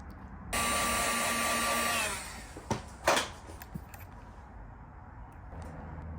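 A heat gun shrinks heat shrink tubing over wire connections on a DRL T-harness for a 1999–2007 GM truck. A loud blast of blowing air lasts about a second and a half, then gives way to faint clicks and handling noises.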